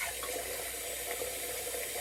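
Water runs steadily from a bathroom sink tap during a wet-shaving routine, a quiet, even hiss that continues throughout with no talking.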